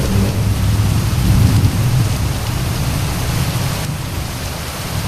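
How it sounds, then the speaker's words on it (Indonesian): Heavy rain pours steadily at a night campsite while a low rumble of thunder rolls through the first half, loud and close, with no one speaking. "terdengar suara petir ya"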